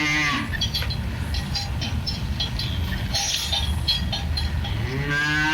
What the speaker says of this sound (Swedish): Ja, en ko.